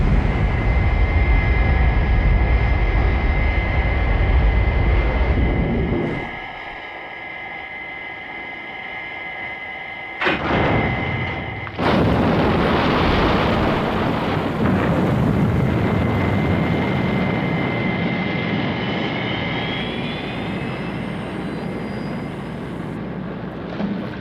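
Thunderbird 4, a small rescue craft from the Thunderbirds TV series, launches with a loud roaring whoosh. The roar drops away to a quieter hum, then a sudden blast brings back a sustained, rushing, hissing thrust.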